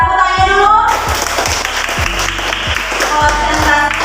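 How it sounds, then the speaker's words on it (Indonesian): A class of elementary school children claps their hands in a classroom, loud sharp claps falling in a steady rhythm with a voice over them and music playing along. "Iya, tepuk tangannya dulu."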